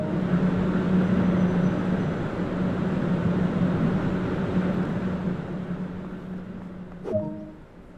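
LGV high-speed train idling in Train Sim World 2, a steady low mechanical hum and broadband rumble that slowly fades, ending with a brief sharp click and short tonal blip near the end.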